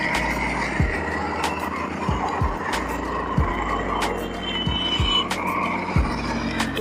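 Road traffic passing near the Neel Dhara gates on the Ganga in Haridwar, a steady loud roar of vehicles close by with repeated brief thumps and whooshes as cars go past.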